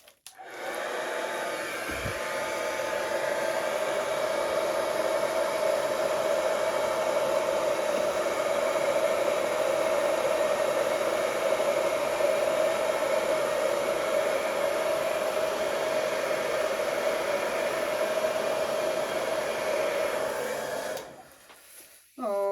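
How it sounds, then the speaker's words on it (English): A hair dryer held in a fixed position over an acrylic paint pour blows continuously for about twenty seconds, a loud steady whirring hiss close by, then cuts off near the end. "I will have my hairdryer in quite a fixed still position"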